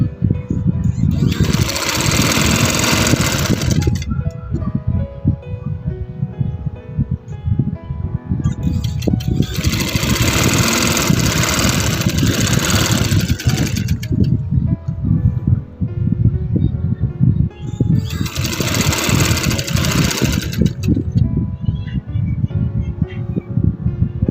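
A sewing machine stitches fancy lace patti onto fabric for a chalk daman, running in three sustained bursts of steady mechanical whirring with short pauses between them, close and fairly loud.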